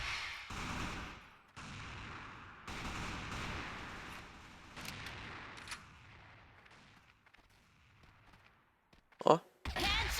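Gunfire in the CrossFire shooter game crackles through the clip in repeated bursts of shots, with a loud sharp blast near the end, all under a player's running talk.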